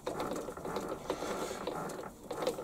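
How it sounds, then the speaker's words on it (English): A 2BA thread tap is wound in by hand on a lathe, cutting fluid applied, giving soft repeated ratcheting clicks and gritty mechanical turning, close and quiet with no talk. "I'm going to retap it with a 2BA, exactly the same thread. I'll put a little bit of cutting jollop on there, and I'm just going to wind it in by hand."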